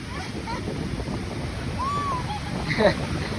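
Steady roar of sea surf washing in along a shore at Diu, constant and fairly loud, with wind noise and a faint distant voice.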